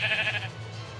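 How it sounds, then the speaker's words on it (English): Sheep bleating heard during a live stream of New York Mets vs Atlanta Braves game commentary, a brief wavering bleat that fades into background noise within half a second. "Sounds like a damn sheep farm around here."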